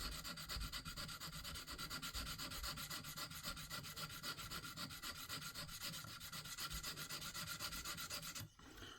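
A hawkbill knife tip is sharpened on a KME guided sharpener, a steady fine abrasive scraping of blade on stone repeated in quick strokes, close and faint, stopping near the end.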